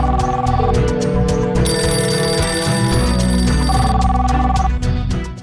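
A telephone bell rings loudly and continuously with a bright, repeating electronic chime pattern, heard alone with no talking.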